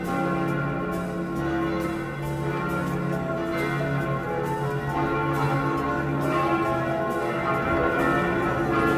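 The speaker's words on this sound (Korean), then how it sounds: "종소리" Bells ring from a distance in Prague, a continuous layered chime of overlapping tones at a moderate level with no voices.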